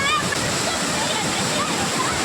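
Ukkada waterfall in the Muttodi forest roars in a loud, continuous wash of falling water with light splashing, while a voice sounds faintly through it.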